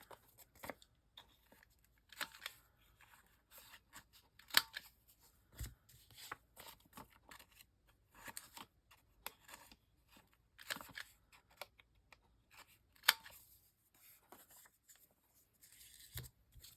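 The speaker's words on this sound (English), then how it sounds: "I'm going to round my corners here because that is what I do" A corner rounder punch rounds off paper corners at a crafting table, making a series of short, crisp crunching snips spaced irregularly, with quiet handling rustles in between and no talking.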